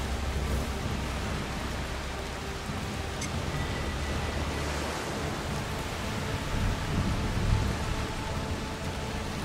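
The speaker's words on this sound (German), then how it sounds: "Der Regen wird schlimmer. Das ist nur ein Sturm." Steady rain and a building storm in the video game A Plague Tale: Requiem, a dense, even wash of noise that holds at a constant moderate level throughout with no voices.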